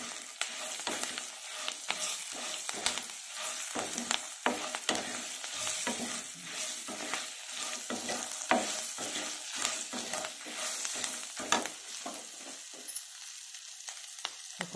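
Cooked rice is stirred into a freshly fried tempering for gongura pulihora (spiced red sorrel leaf rice), with repeated scraping strokes over a soft sizzle, close and continuous for about fifteen seconds.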